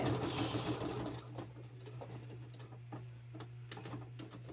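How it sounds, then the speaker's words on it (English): A sewing machine stitches along the edge of a square pin cushion with a fast, steady mechanical hum and rapid ticking, close up, slowing briefly before carrying on. "We're going to sew all the way around in the square, right on the edge."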